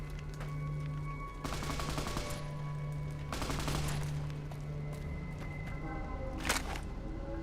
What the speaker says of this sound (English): Oh, are you shooting stuff?